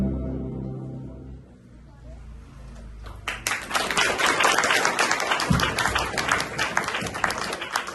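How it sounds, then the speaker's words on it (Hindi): An audience breaks into loud, dense applause after a devotional performance, building from quieter sounds into sustained clapping with some voices. "बहुत सुंदर प्रस्तुति, बहुत जोरदार तालियों से अभिनंदन करेंगे"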